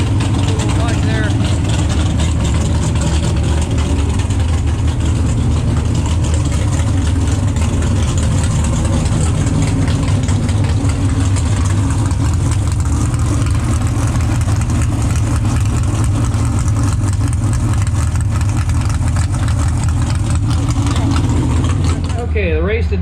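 A warmed-up race car engine idles steadily and loudly throughout at a drag racing event, a constant rumbling drone with a faint voice now and then.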